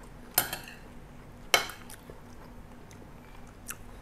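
A couple of sharp crunchy bites into stir-fried long beans with minced pork in holy basil, two distinct crisp chews about a second apart, close and clear against a quiet room.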